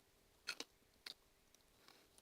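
Crunchy fresh fruit, a small tart whole fruit eaten skin and all, bitten and chewed close up: a few quiet crisp crunches in a short burst, then sparse faint chewing clicks, with no talk.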